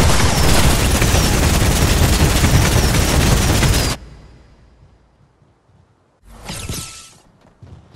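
A dense, continuous barrage of loud fireworks crackling and booming in the video game Fortnite for about four seconds, then a quiet lull and a shorter burst of blasts.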